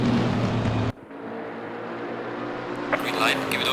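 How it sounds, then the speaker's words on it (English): A pack of V8-engined GT4 race cars roars off the line at a race start at Laguna Seca in a racing video game, a dense loud engine drone that drops briefly and then builds again. "That's a roar of a V8 and they're off."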